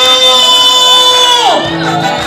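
A church congregation raises loud, sustained cheering, whoops and shouts during a service, the voices blending into a dense, continuous crowd roar that eases slightly toward the end.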